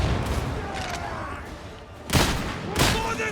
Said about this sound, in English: Oh, that's the bomber gun!